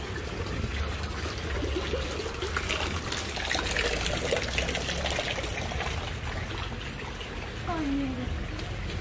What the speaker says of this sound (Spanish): Mire, por si no creen que está lloviendo.